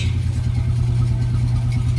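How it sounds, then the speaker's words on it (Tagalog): A restored Honda Wave 125i motorcycle, returned to a stock setup with drum brakes, runs steadily at idle with an even, low, pulsing engine note throughout. "Ang ganda ng tunog ng makina, talagang kailangan lang ng himas ito."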